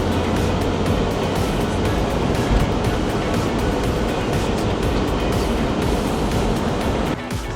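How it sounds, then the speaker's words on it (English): Steady surf at Paradise Beach in Cozumel, Mexico, a continuous broadband wash of ocean waves breaking close by, loud and unbroken with a slight drop near the end. "This is Paradise Beach."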